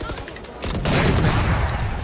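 Gunfire in the tactical shooter Valorant, a quieter stretch followed by a loud burst of rapid shots and blasts that swells and sustains as a dense, close barrage.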